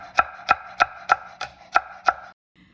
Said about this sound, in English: Now we're gonna chop the scallion